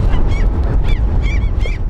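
Gulls call repeatedly by a river near a border, several sharp, rising cries at irregular intervals over a rumbling outdoor background, loud and close.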